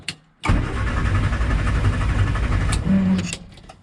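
1967 Morris Minor engine cranking over on ignition with a little choke, a loud close rhythmic churning of the starter that runs for about three seconds and then stops.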